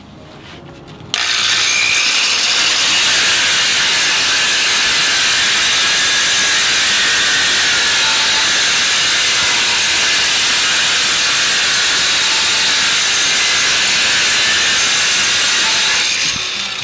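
Blaster variable-speed angle grinder with a 50-grit dry polishing pad working a cut tile edge, a loud steady whirring grind that starts abruptly, holds constant, then winds down.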